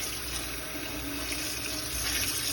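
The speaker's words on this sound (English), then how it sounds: "that's a lot of water to get all that vinegar off" Tap water runs steadily into a sink to rinse vinegar off raw vegetables, a continuous close hiss and splash with no talk.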